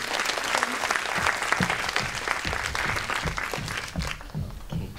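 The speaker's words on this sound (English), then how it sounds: "Let's give her a big round of applause." Audience at a cultural spaces conference panel applauds a speaker, a lively wash of many hands clapping with distinct individual claps standing out, thinning slightly near the end.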